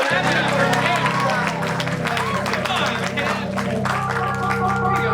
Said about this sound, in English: Oh, we didn't give a clap for Jamie.